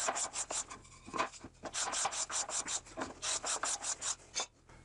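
A taping knife scrapes shavings off wooden puzzle blanks in a quick, regular series of rasping strokes, close and fairly loud, with no talking.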